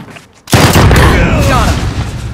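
A C4 charge detonates in Modern Warfare 2019, a sudden loud, close blast after a quiet moment, followed by a rolling rumble and debris that stays heavy and sustained to the end.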